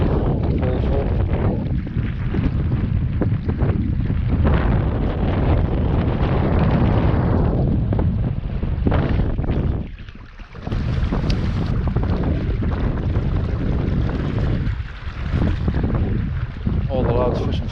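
Strong wind at a reservoir, roaring and buffeting loudly into the microphone almost without pause, dropping briefly only once or twice, with a voice partly buried underneath.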